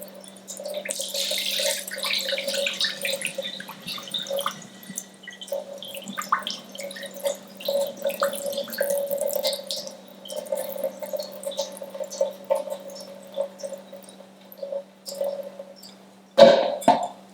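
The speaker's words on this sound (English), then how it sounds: "Drain the water." Water trickling and dripping steadily as it drains from a bowl of pomegranate seeds, with a faint hum underneath and a brief clatter near the end.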